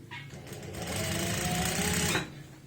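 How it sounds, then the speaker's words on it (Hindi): Sewing machine stitching a zipper onto layered pants, a fast steady mechanical whirring and rattling that starts, runs for about two seconds at close range, then stops abruptly. "तो यहाँ पे हम सीधी सिलाई लगाएंगे, कोई भी दिक्कत नहीं आएगी।"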